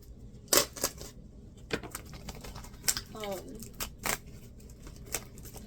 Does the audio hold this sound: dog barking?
no